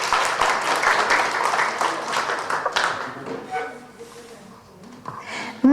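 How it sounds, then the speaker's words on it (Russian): A concert club audience applauds a musician with sustained, fairly loud clapping that gradually tapers off, ending with murmurs and a few scattered sounds. "Ваши аплодисменты."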